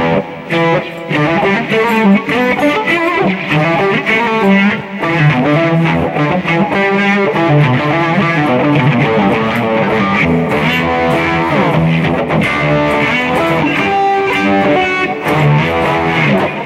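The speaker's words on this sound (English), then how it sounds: "Use the delay and reverb to make it sound massive." Electric guitar played through a Boss eBand JS-10 with delay and reverb, a tone with sustained chords and lead lines that ring out into long echoing tails, loud and continuous with a short dip near five seconds.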